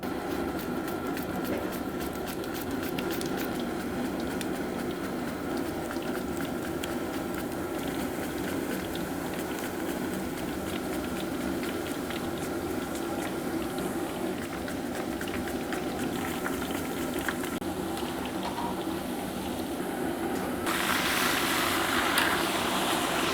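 Sliced Nendran plantain chips deep-frying in hot oil: a continuous dense crackling sizzle, loud and close, steady throughout with a brief brighter swell near the end.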